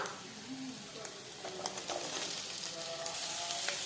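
Chopped onions sizzle in a pan with ginger and garlic, a soft steady frying hiss with faint stirring clicks, while someone talks at a low level.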